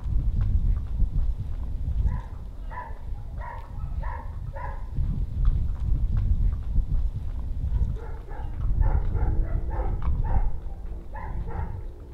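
Dogs bark and a horse's hooves clip-clop on footing in a riding arena during groundwork with a stallion named Falcon, steady low rumble beneath with bursts of barking and rhythmic hoof strikes throughout.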